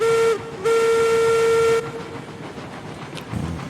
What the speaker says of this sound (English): I'll blow a whistle for some good luck.